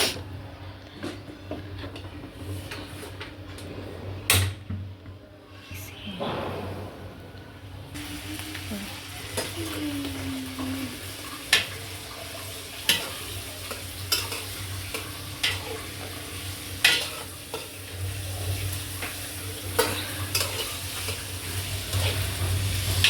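Onion and chili frying in oil in a pan in a cramped kitchen, a continuous sizzle broken by repeated sharp clacks of a spatula against the pan, with a short burst of running water early on.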